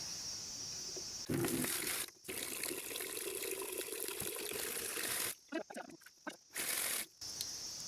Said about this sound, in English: we're going to put in some water, and we just want to make it lukewarm